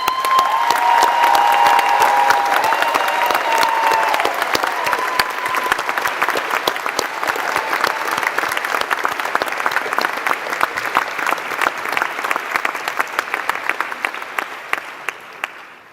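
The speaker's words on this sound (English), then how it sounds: "I'm sure our graduates would agree when I say you deserve another round of applause." Graduation ceremony audience at a university giving a long, steady round of applause, dense clapping from a large crowd filling the hall throughout, with faint voices or cheers early on.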